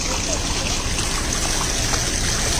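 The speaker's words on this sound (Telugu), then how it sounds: "చుట్టూ ఎటు చూసినా ఎడారి, అయినా నీళ్లు ప్రవహిస్తూనే ఉంటాయి" Water flowing at Elisha's spring in a desert setting: a steady rushing, trickling stream that holds even throughout, close and moderately loud, with no clear talking.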